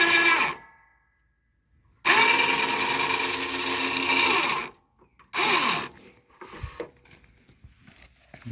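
A cheap $60 Harbor Freight winch on a mower three-point hitch whirs in steady motorized bursts while raising the hitch, one long run and several shorter ones separated by silence.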